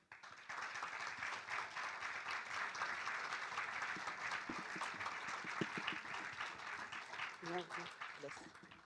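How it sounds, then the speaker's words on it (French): Audience applause at a Lausanne book-prize event welcoming an author on stage, a quiet, even spread of clapping from a room of people lasting several seconds, with a voice starting to speak near the end. "Merci de l'applaudir."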